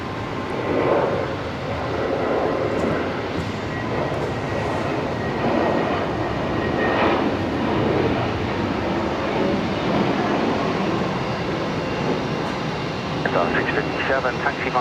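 Aircraft landing at Brisbane Airport at twilight, a continuous loud engine and airflow roar that rises and falls slightly, with radio and voices talking over it.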